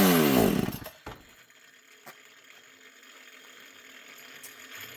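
A chainsaw in need of a carburetor kit catches with a loud, rough burst of engine noise for about a second, then sputters and fades to quiet with a couple of faint knocks.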